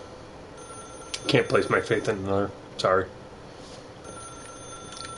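A telephone in The Stanley Parable video game rings with a steady, thin electronic tone running under a man's brief spoken lines and continuing faintly afterward.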